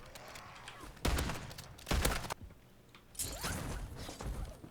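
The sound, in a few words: shotgun gunfire in a video game, Call of Duty zombies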